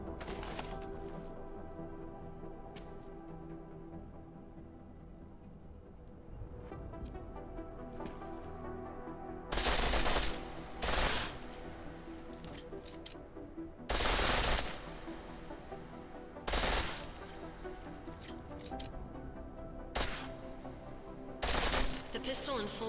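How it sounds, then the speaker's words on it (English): Pistol firing full auto in Deus Ex: Mankind Divided, loud short bursts of rapid shots repeating at intervals over a game soundscape, with speech heard among them. "The pistol in full auto will take down targets fast, but it'll burn through your ammo"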